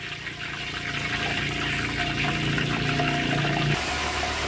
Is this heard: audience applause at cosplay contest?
no